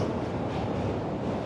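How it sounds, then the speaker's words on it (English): New York City subway train rushing past on the opposite track in Manhattan, a continuous loud roar and rumble with no break. "there's the train. Opposite track"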